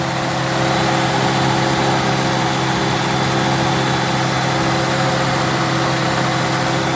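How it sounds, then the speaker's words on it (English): A 1975 Chevy Nova V8 with a larger replacement radiator idles steadily, giving a loud, continuous, even engine drone with a low rumble and no speech, heard close up throughout. "The engine runs pretty well."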